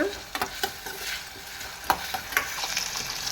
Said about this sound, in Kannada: ಈರುಳ್ಳಿ ಚೆನ್ನಾಗಿ ಫ್ರೈ ಮಾಡ್ಕೊಳ್ಳೋಣ